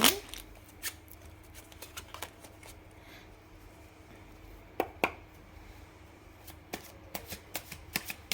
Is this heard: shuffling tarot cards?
yes